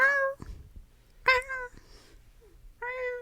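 A house cat that has had its favourite toy since kittenhood meows loudly and clearly three times, calling out with long rising-falling cries separated by short quiet gaps, near and alone.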